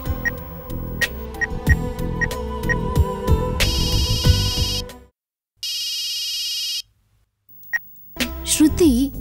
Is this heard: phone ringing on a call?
yes